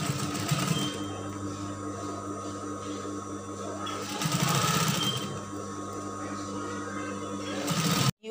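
Sewing machine stitching a woven fabric outer lining, running in a close, steady mechanical whir with rhythmic needle clatter, pausing and restarting a few times before stopping at the end.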